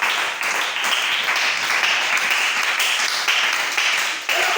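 A church congregation claps in sustained applause, loud and close, filling the room evenly with dense clapping that runs throughout with no voices standing out.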